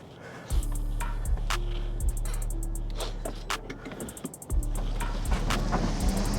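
A 2024 Hummer EV pulls away with a low, steady electric drive hum and rolling road rumble, close and fairly loud, with wind buffeting and a few clicks over it, briefly easing midway before surging again.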